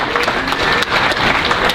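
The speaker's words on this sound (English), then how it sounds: "go ahead and give yourselves a round of applause." An audience at an awards ceremony claps loudly and continuously, a thick wash of many hands close and full for the whole short stretch.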